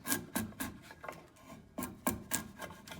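A sharp chisel pares pine by hand on a half model, giving a series of short rasping scrapes at uneven intervals, close and quiet, with no talk.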